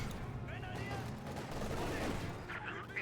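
Sustained Vickers machine gun fire in Company of Heroes 2 battle, a steady distant rattle with mixed battlefield noise, running under a commentator's voice throughout.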